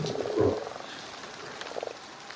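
Frogs croaking in a pond during mating season, a burst of repeated throaty croaks up close, then quieter scattered calls against a steady outdoor background.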